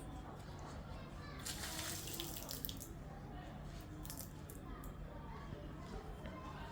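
Water pours and splashes steadily as an offering poured out during an ancestral prayer rite, a continuous faint trickle running throughout without pause.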